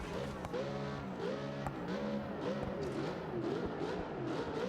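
Off-road vehicle engines echo underground in a cave in BeamNG, revving in repeated rising and falling pulls, loud and reverberant over a steady rumble.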